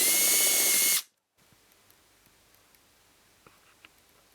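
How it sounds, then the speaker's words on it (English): Close, loud power drill boring out rivets on a West German Bundeswehr canvas haversack, one steady burst of about a second that cuts off abruptly, followed by near silence with a few faint ticks. "Some of these straps are riveted on to strengthen them, so I'm going to have to drill those out"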